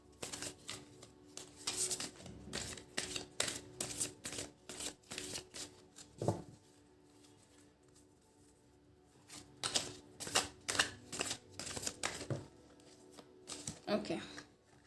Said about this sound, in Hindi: हम हमारे कार्ड्स शफल कर लेते हैं